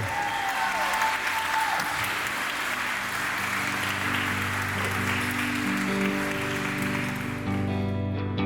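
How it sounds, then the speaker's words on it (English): Wedding guests at Historic Rosemont Manor in Berryville, Virginia applaud the couple, dense sustained clapping from a crowd that continues steadily as music begins underneath. "how about a big round of applause for these two?"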